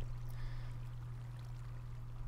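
Water flowing in the Minecraft video game makes a soft, steady rushing wash that runs unbroken and faint, with a constant low hum beneath it.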